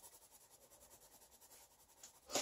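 Coloured pencil scribbling on paper, a soft rapid scratching with a back-and-forth rhythm that stays faint and close, ending in a brief louder scrape.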